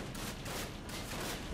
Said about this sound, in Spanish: Ey, déjame disparar.